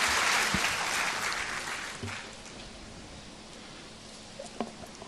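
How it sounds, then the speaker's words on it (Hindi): Crowd applause welcoming Home Minister Amit Shah at an appointment letter distribution program in Assam: dense clapping loud at the start, thinning and fading over a few seconds, with a few scattered claps near the end. "तालियों की करतल ध्वनि से हम स्वागत करते हैं माननीय श्री अमित शाह जी का।"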